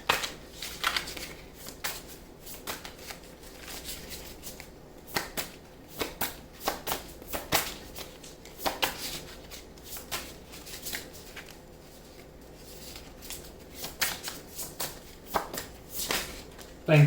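Tarot cards shuffled by hand in repeated soft riffling bursts with pauses between, close and fairly quiet, with little or no talking.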